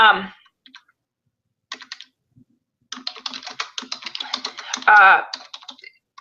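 Someone types on a computer keyboard in brisk, uneven bursts of close clicking keystrokes with short pauses between them, and a brief voice-like sound near the start.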